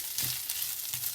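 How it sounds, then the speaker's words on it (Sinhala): A ladle stirs paella with broth in a pan. Soft sizzling and simmering runs continuously with two brief scraping strokes, heard close and fairly quiet. "දැන් මම මේක ලස්සනට හැඳි ගාගන්නයි යන්නේ"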